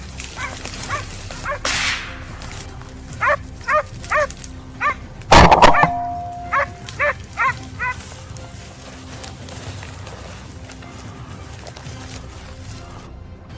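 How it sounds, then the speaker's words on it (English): A hound bays in a series of sharp, evenly spaced barks from the reeds of a cornfield during a wild boar hunt, with a loud brief burst midway and a few more barks after it. "the hound's frantic barking echoed from the reeds"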